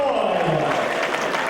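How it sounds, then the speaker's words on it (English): An arena crowd at a strongman competition applauds steadily after a competitor's effort, a dense wash of clapping under a commentator's voice. "The crowd is appreciative of that effort as well."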